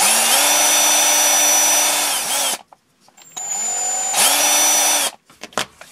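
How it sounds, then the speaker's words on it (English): A power drill with a 3 millimetre bit, cleaning out a hole in a radio-controlled Tamiya Hornet car part, whines steadily for a couple of seconds, stops, then spins up again in a second short burst, loud and close. "I'm going to take a 3 millimeter drill bit"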